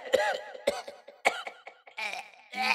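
A performer in a village Ramlila stage play acts an old king and gives a string of hoarse, exaggerated coughs, several sharp bursts followed by longer rasping ones, close and loud, with a voice imitating a frail elder's cough.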